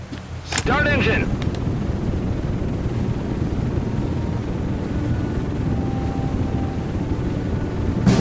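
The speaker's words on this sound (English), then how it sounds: "Start engine." A carrier-based aircraft engine starts up on a flight deck in the game Aircraft Carrier Survival: a brief rising whine, then a loud, steady broadband roar that holds throughout.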